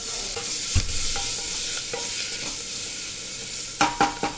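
Tomatoes and coriander frying in oil with steady sizzling in a pan, broken by a few sharp scraping clinks of a spoon stirring.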